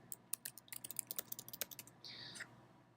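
Keys tapped on a computer keyboard during software data entry, a quick run of light, close clicks in an irregular rhythm, ending in a brief steady hiss.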